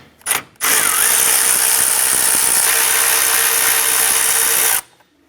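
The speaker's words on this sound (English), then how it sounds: "We're going to go ahead and remove our 10mm bolt." Air ratchet or power drill running steadily for about four seconds, removing a 10mm bolt from the AC condenser cooling fan assembly on a 2004-2008 Acura TL, preceded by a brief short burst; loud, close and continuous, with no talk.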